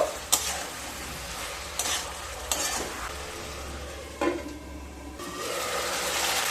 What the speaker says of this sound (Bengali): দিয়ে আবারও খুব ভালোভাবে লো টু মিডিয়াম স্টিমে কষিয়ে নেব